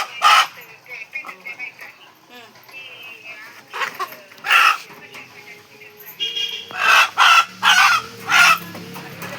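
Village chickens cluck and a rooster crows nearby in repeated loud bursts, with people talking between the calls outdoors.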